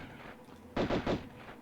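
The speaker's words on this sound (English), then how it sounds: "I mean, the gunshots sound really good." Gunfire from a PS1-era video game: a quick burst of three punchy, muffled shots in close succession, loud against a quiet game background.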